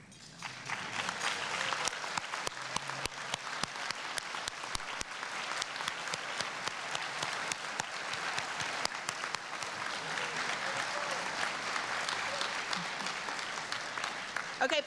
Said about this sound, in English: I invite all of the fall and spring 2015 and 2016 initiates of Omicron Delta Kappa to stand so we may honor you with our